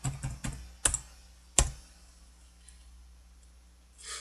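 Typing on a computer keyboard while entering card sales figures into an accounting form: a few sharp separate key clicks early on, then near silence, close and fairly quiet.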